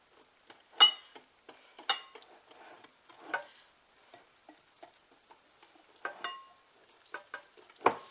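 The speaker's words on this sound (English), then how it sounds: "let's just mix this around a little bit." Chocolate pudding cake batter stirred in a bowl, soft scattered scraping and tapping strokes at an irregular pace, close but quiet, with no talking.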